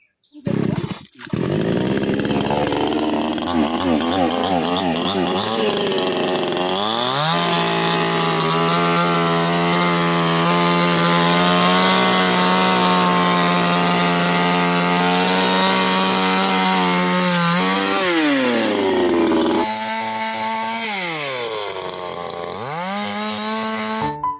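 Chainsaw cutting mango tree branches during pruning, a loud engine whine that rises as it bites into the wood, holds steady for long stretches and then revs down and up again.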